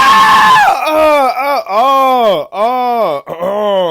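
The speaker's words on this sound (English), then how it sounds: "Man scream. That's a man scream." A man screams in drawn-out, wavering cries, loud and close, broken by short breaths between bursts.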